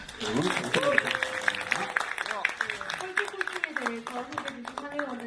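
A lecture audience applauds at the close of a talk, a dense crackle of clapping running the whole time beneath a host's voice speaking over it.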